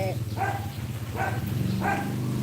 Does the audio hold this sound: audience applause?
no